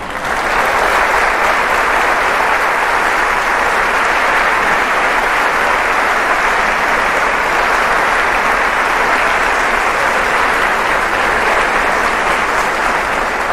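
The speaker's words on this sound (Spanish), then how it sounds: "voy a pedir un aplauso para Cristo" A large audience at a Eucharistic congress in a church setting claps continuously for over thirteen seconds, a dense, even wash of applause with no talking over it.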